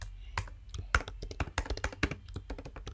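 Fingers type quickly on a computer keyboard, a close, irregular run of crisp key clicks and thunks with no voices.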